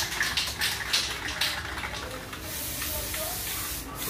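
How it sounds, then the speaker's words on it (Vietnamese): A spray bottle of protectant spray sprays in steady, close hissing bursts at a motorcycle shop working on a Suzuki Satria F150, followed by one longer continuous hiss. "Xịt dưỡng luôn đây."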